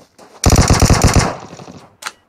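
SKS rifle fire in PUBG Mobile, a rapid burst of about ten loud close shots in quick succession, followed by a single shorter report.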